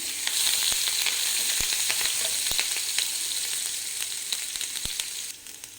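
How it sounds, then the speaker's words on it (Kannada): Green chillies fry in hot oil in a kadai, giving a loud, continuous close sizzle with scattered sharp crackles and pops throughout before it eases off near the end. "ಈಗ ಹಸಿಮೆಣಸಿನ್ಕಾಯಿ ಸ್ವಲ್ಪ ಫ್ರೈ ಮಾಡ್ಕೋಬೇಕು."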